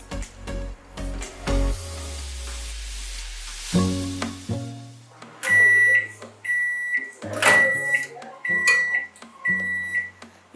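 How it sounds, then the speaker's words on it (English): Microwave oven heating a bowl of pap: a steady low hum that stops and restarts, interrupted by several sharp electronic beeps from the control panel, with faint clicks and handling noises in between. "I put it back in the microwave for 30 seconds."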